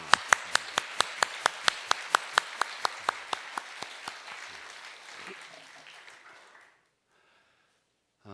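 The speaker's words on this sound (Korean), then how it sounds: "자리에 일어나시면 우리 박수로 격려하겠습니다" Audience applause at a Korean gathering: a dense crowd clapping with loud, sharp rhythmic claps in unison at first. These spread into a softer wash and fade out, leaving silence near the end.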